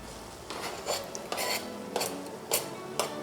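A spoon scrapes and clinks against a saucepan in a few short bursts, stirring garlic close by with no one talking.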